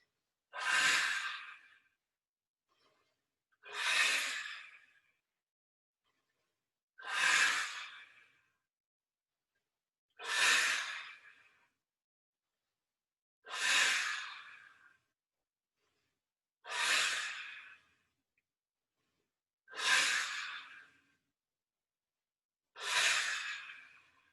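Eight slow, evenly spaced deep breaths during qigong practice, each a long airy exhale rising sharply then fading, clear and close with near-silence between.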